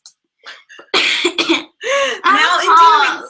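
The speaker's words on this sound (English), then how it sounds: "I have a cough." A person coughs several times up close, rough bursts that run into throat-clearing sounds, loud and dry against a quiet background.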